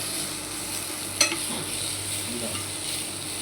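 Steady frying hiss from a pan on the stove, with an occasional scrape or clink of a spoon being stirred through, close and even throughout.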